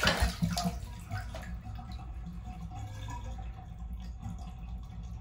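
Water gurgles and rushes under pressure as a Pipe Blaster drain opener is pressed down onto a clogged drain, a louder burst at first settling into a steady churning wash.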